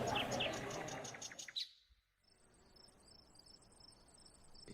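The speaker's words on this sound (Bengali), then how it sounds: "ঝিঝি পোকার অনবরত ডেকেই চলেছে পাশের ঝোপঝাড় থেকে।" Crickets chirp in bushes at night, a dense rapid pulsing trill close by that cuts off abruptly, followed by fainter high, steady chirping farther away.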